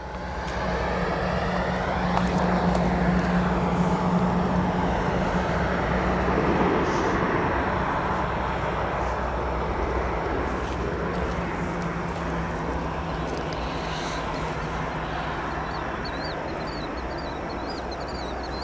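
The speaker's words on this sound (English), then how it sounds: "we will be getting a 777 China Southern Cargo departing" A China Southern Cargo Boeing 777 departs O'Hare, a steady, distant jet roar with a low engine hum that holds loud and even throughout, with no voices over it.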